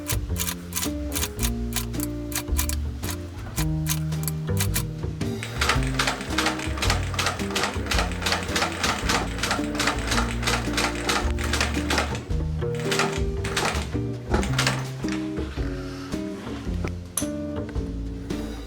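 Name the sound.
sewing machine stitching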